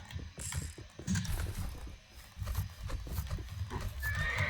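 A horse whinnies near the start in the Roblox game Westbound, with clopping hooves and clicking mechanical sounds over a game-like soundscape, fairly quiet and brief.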